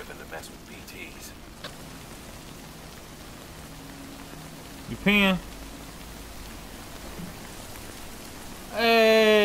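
Steady rain falls across the open landscape of the video game Death Stranding, a continuous soft hiss that carries the whole stretch, with brief voices from characters breaking in twice.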